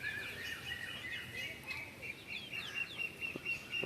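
Free-range chickens and small chicks cluck and chirp in a brief outdoor scene among grass and plants, small calls scattered over a low background murmur, moderately close.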